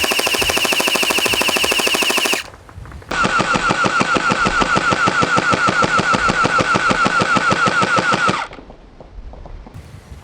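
A small gel blaster pistol fires in two long, rapid automatic bursts of sharp, evenly spaced clacks over a motor whine, loud and close, with a short quiet gap between them.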